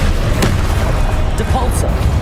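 Heavy rumbling booms and crackling bursts from the Descendo spell in Hogwarts Legacy combat, loud and continuous with a few sharp transients and a brief whooshing sweep near the end.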